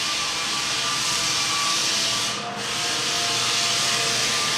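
A floor sander grinds steadily across a scratched wood floor during refinishing, a loud, continuous rough whir that dips briefly midway before resuming at full strength.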